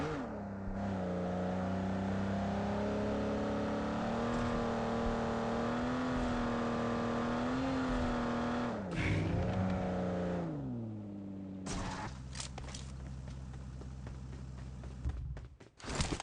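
A sports car engine in PUBG Mobile drones at a steady pitch, rising and falling with throttle changes, then roars and revs more roughly toward the end.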